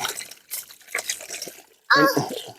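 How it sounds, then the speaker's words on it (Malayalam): Mangoes for pickle are washed by hand in a container of water, with uneven sloshing and splashing in bursts and a louder splash near the end, while people talk quietly in the background. "അടുത്ത വീണ്ടും ഒരു വെള്ളത്തിൽ മൂടി കഴുകുക"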